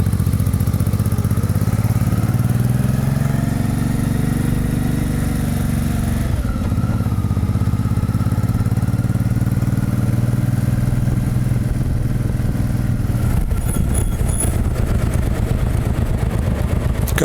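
Engine of a large full-size 125cc motorcycle styled like a Harley-Davidson V-Rod, a steady close mechanical drone that shifts in pitch midway and carries on loud without talk.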